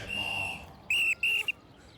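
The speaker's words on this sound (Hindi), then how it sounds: "अरे पिछले सिग्नल से सीटी पे सीटी बजा रहा हूँ, सुनाई नहीं देता तुम लोगों को?" A police whistle is blown in short, shrill blasts on a street, first one long tone, then two quick ones and a brief final chirp, loud and close.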